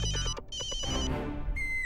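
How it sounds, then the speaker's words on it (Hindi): A phone's ringtone for an incoming call rings out loudly and alone: a bright repeating melodic tone of several short pulses, then a sustained note, and a final rising chime. "हाथी भाई का फोन"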